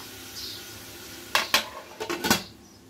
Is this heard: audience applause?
no